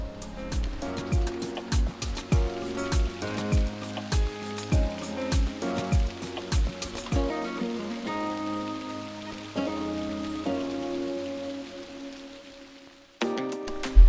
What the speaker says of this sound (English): it just started pouring rain here